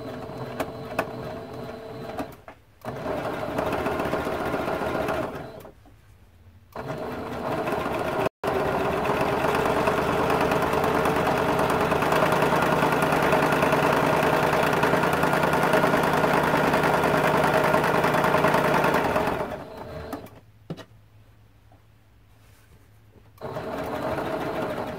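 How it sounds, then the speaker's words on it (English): A sewing machine back stitches through a collage-style T-shirt quilt, giving a loud, steady mechanical whir that runs for long stretches and pauses briefly between passes. "I'm going to go ahead and do some back stitches just to make sure that that stays together"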